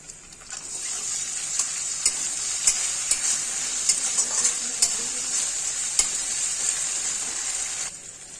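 Ginger, cumin, coriander and dried chilli paste fries steadily in a pan for a fish curry with potato and ridge gourd, a continuous bright sizzle broken by light stirring clicks, close and fairly loud with no talking.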